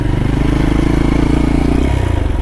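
A motorcycle cruising on an expressway with a seizing engine, a loud steady engine drone with a rhythmic pulsing thrum and some rattling, close and constant.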